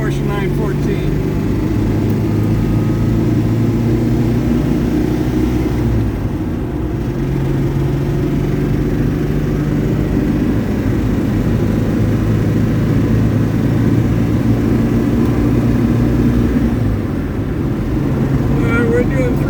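A 1972 Porsche 914 accelerating hard, its engine a loud continuous drone heard from inside the car along with steady road and wind noise.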